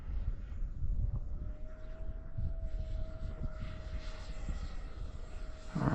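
A Freewing 70mm F-16 RC electric ducted-fan jet flies overhead in about 10 mph wind, its steady high whine and airy rush holding at moderate distance throughout.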